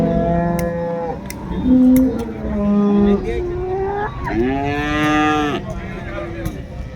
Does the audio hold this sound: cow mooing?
yes